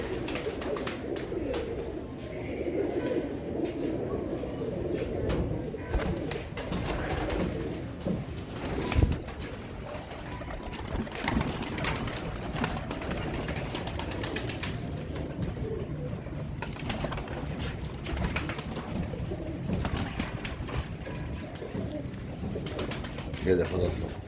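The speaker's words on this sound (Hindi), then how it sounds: "सब लाल आंखों के कबूतर है" Red-eyed pigeons of fancy breeds coo softly and repeatedly in a loft, a steady low burble with occasional wing flutters, while people talk over them throughout.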